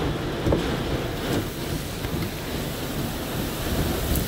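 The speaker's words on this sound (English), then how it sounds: "Some hail starting to come down." Steady roar of rain and hail hammering down during a microburst thunderstorm in Lahoma, Oklahoma, a dense, constant wash of impacts with a few sharper hits standing out and no voices.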